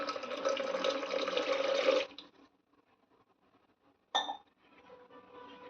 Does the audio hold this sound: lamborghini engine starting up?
no